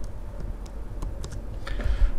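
Keys on a Mac keyboard are pressed to enter the Cmd+C copy shortcut, producing several soft, close plastic clicks scattered irregularly over about two seconds in a quiet room.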